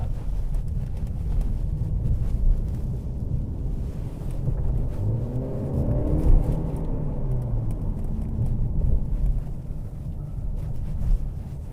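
A car with 35,000 miles on it drives during an inspection test drive, giving a steady low rumble of road and engine noise with wind buffeting, heard from inside the cabin and constant for the whole stretch with no talking.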